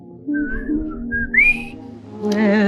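A person whistles a melodic tune in the 1942 film Holiday Inn, clear sustained notes with sliding pitch over faint background music, loud and close.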